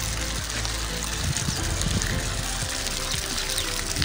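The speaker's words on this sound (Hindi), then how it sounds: "और फवारा गिरता जा रहा है" Water from a fountain falls steadily into an algae-covered pool at Safdarjung Tomb, a continuous loud splashing wash with no pauses and no voices.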